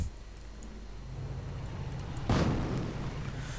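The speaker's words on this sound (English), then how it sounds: "Mortar rounds going in." A single heavy mortar blast lands partway through a 1v1 video game match, a sharp broadband thump with a brief rumbling tail, rising over a steady low background of battle noise.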